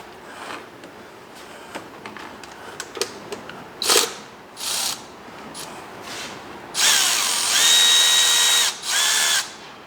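A ratchet fitted with a magnetic socket works a nut off a Honda Civic during a TDC sensor replacement: scattered clicks and taps, then several quick buzzing ratchet runs, the longest and loudest near the end, close up.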